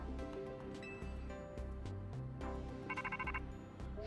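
A phone ringtone sounds in the Pokemon Legends Z-A video game, a short burst of rapid trilling tones rising quietly above soft, continuous game music.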